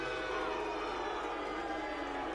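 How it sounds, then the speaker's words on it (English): Crowd at a Brighton fight night reacting as the referee stops Liam Craddock vs Joe De Vivo, a constant distant murmur and roar, low and unsettled, with commentary voices faintly underneath. "The crowd does not seem happy with Craddock."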